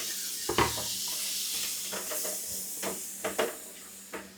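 Green papaya pieces frying in a pan with chili and coriander powder for a masala, a soft sizzle broken by several clattering stirs and utensil knocks against the pan, close, no voices.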